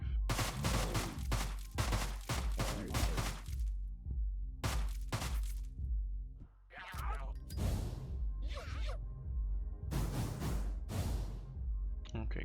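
Clusters of sharp, close gunshots in the game Deadbolt, fired in quick runs with short gaps over about twelve seconds, each crack crisp and bright, with some scattered clicks and clatter between the volleys.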